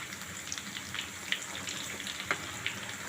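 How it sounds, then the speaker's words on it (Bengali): Kebabs frying in a pan give a faint, steady sizzle with scattered small crackles and pops spread through the few seconds. "এভাবে সব কাবাবগুলো আমি ফ্রাই করে নেব।"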